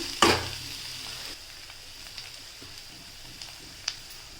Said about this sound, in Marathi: आता आपण ह्यामध्ये जो ओला खोबरा घेतलेला तो ह्यामध्ये मिक्स करून घेणार आहोत